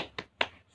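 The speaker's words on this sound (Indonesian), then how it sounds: "Lagi-lagi, tepuk semangat" Two sharp hand claps from a class doing the 'tepuk semangat' clapping chant, spaced apart with a brief pause between, the second louder and crisper.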